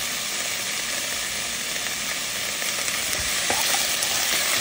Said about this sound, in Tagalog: fry nicely ang ating carrot, guys